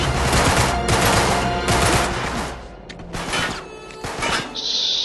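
Heavy gunfire from the video game Uncharted 3, in the ship-filled chapter 12 'Abducted': dense, continuous bursts of rapid shots and crashes that barely let up, with a brief lull near the middle before the shooting resumes.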